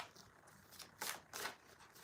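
Greek mythology oracle cards are shuffled in a few quick, faint riffling bursts, close and soft, with no talking.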